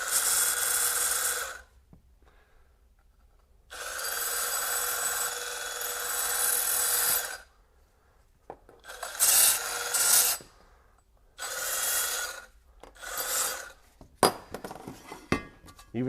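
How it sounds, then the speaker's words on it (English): A Milwaukee M12 FUEL cordless band file grinds against metal tubing in several separate bursts of harsh, raspy abrasion, each lasting a few seconds, with short quiet pauses and a few metallic clinks between them. "I can get in there with this band file and clean that up rather quickly."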